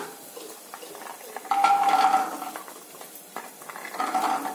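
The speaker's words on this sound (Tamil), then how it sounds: "பூண்டு கொஞ்சம் நல்லா வதங்கணும், வதக்கிக்கலாம்" Garlic sautéing in a little oil on a hot tawa, with a low sizzle under repeated scraping and stirring of a metal spatula, close and moderately loud, no speech.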